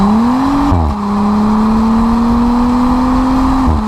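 An Audi S5 with a 350-horsepower engine revs loudly and continuously, a strong droning tone rising with a brief dip as it shifts gear, heard close and alone without talking.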